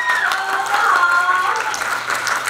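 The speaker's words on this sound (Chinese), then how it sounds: "再掌声鼓励一下" A lecture audience claps in applause, a continuous spread of hand claps heard alongside a voice speaking over it.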